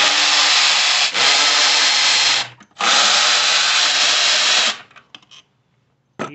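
A power ratchet spins a 5 mm Allen socket to loosen the throttle body bolts on a 2011 Nissan Frontier 4.0. It whirs loudly in two long bursts, then gives a few faint clicks and goes quiet.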